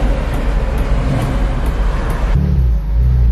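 A Porsche being driven, its engine and road noise rumbling steadily from inside the cabin, with a shift in tone partway through and no talk.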